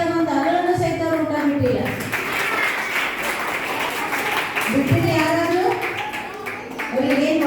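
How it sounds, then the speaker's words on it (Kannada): An audience of adults applauds for children at a camp closing ceremony, a dense wash of clapping in the middle with voices and speech before and after. "ನಾವು ದೊಡ್ಡವರೆಲ್ಲರೂ ಅವ್ರಿಗೆ ಚಪ್ಪಾಳೆ ಹಾಕಬೇಕು"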